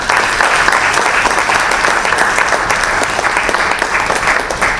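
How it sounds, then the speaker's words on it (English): An audience at a Future of Work conference panel discussion claps loudly for the panelists, a thick, continuous wash of applause holding steady from start to finish with no speech over it. "Let's appreciate them with a thunderous round of applause."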